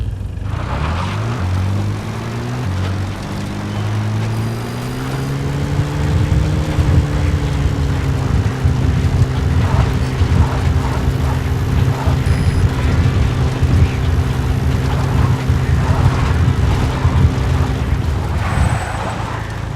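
A support helicopter arrives in a video game, its engine whine rising in pitch then settling into a loud, steady drone with a heavy rotor rumble underneath, sustained and close.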